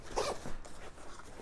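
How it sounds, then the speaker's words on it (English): The well-worn zippers on a 5.11 Tactical Rush MOAB bag are pulled open with a quick, soft rasping zip followed by quieter fabric rustling, close to the listener. "See how much these zippers are broke in?"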